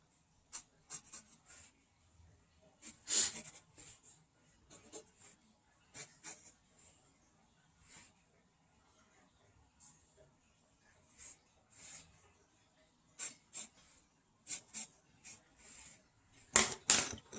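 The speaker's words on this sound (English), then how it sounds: "and then I'm gonna erase this little corner" Quick scratchy rubbing strokes of an eraser working over a small corner of a drawing on paper, coming in short separate bursts with gaps between them, close and fairly quiet.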